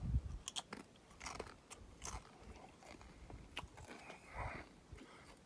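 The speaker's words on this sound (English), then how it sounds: "I'm gonna take a bite." Crunchy snacks from a bag stored buried for a year are bitten and chewed close up, a series of crisp crunches and crackles that come in irregular bursts, fairly quiet and with no talk.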